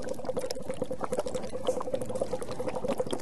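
Someone blows through a straw into a water bottle, making continuous loud, close bubbling with a rapid burbling rhythm, held steady for several seconds with no talking.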